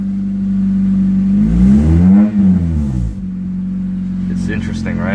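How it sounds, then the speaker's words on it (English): A 1996 Honda Accord beater car with a rusted-out small exhaust is revved once, its engine note sweeping up to a loud peak and falling back to a steady idle. "alright, I'm gonna rev it."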